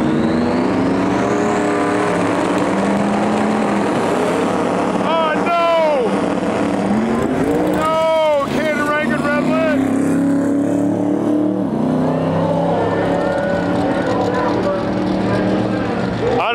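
A big rusted drag racing truck roars at a World Cup Finals import-versus-domestic event, its loud engine droning and then revving in rising and falling sweeps before easing off, with a commentator talking over it.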